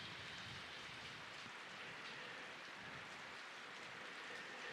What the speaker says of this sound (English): you may hear the sound of the rain